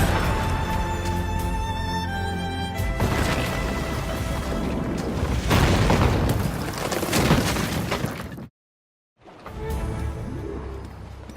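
Ship cannon fire during a naval battle in Assassin's Creed Rogue, heavy booming blasts and crashing impacts layered over music and battle noise, loud and dense, with a brief dropout near the end before the din resumes.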